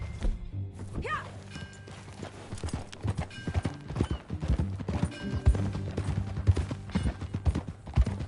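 Rhythmic clip-clop of horse hooves trotting at a steady pace in the video game Red Dead Redemption 2, close and prominent, with occasional creaks and a brief whinny early on.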